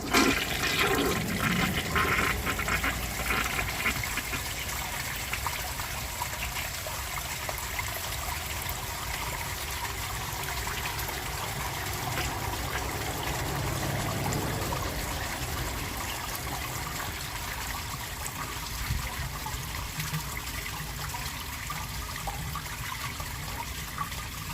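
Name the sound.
1953 Kohler Trylon toilet flushing during a test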